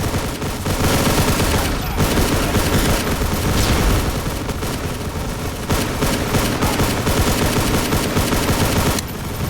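Sustained 5.56 rifle fire in the game Hard Life / HDTF, loud dense bursts of rapid shots with booming echoes running almost without pause, with a brief break near the two-second mark.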